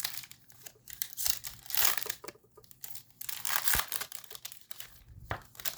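A Magic: The Gathering Wilds of Eldraine draft booster pack is torn open and handled, with close, crisp crinkling and tearing foil wrapper noises in irregular bursts, no speech.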